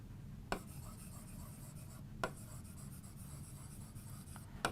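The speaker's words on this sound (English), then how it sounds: "I would like to write on the screen here." Marker or pen writing on a classroom screen during a science lesson, a steady faint scratchy rubbing with a few sharp taps as the tip strikes the surface.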